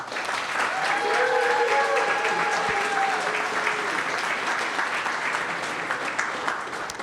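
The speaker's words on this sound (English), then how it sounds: "And all of you help me give a round of applause to Megan." A large audience claps in a sustained round of applause at a Demo Day event, a dense, steady wash of hands lasting several seconds with a few brief cheer-like tones early on and no speech.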